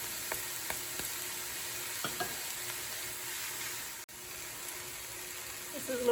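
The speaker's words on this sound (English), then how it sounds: "make sure that you stir once in a while as it's cooking" Fennel and garbanzo bean soup cooking in a pot gives a steady low sizzle and bubble, with a few soft clicks and scrapes of a spoon stirring near the start and a louder clatter at the end.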